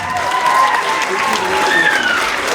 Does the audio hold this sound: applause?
yes